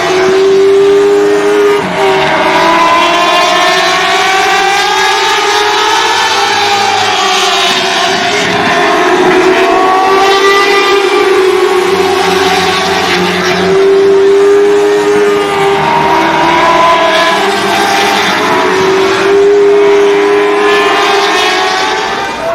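Street stock and modified race cars at a short oval track, engines roaring loud and continuous as they rise and fall in pitch while the field passes, with several cars heard together.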